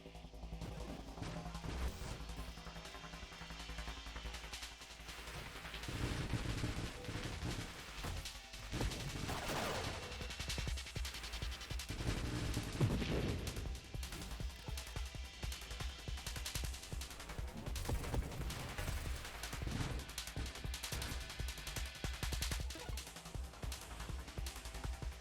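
Missiles landing and exploding in the space shooter Nova Drift, a continuous barrage of crashing blasts and rapid gunfire-like impacts layered over a droning background for the whole stretch.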